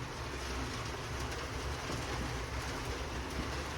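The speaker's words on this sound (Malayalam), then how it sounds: "മുകളിൽ നല്ല മഴയാ" Heavy rain pours onto a roof sheet overhead, a dense steady hiss and patter that holds evenly throughout, fairly close and with no voices.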